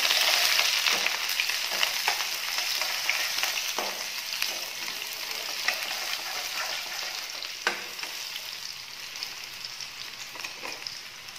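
Garlic, onion and green chili fry in a pan with a steady, close sizzle, broken by occasional scrapes and clicks of stirring.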